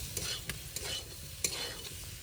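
A spoon stirs spinach as it sautés in a pan for spinach paneer paratha, with a soft sizzle underneath and a handful of brief scraping strokes at irregular intervals, quiet and close.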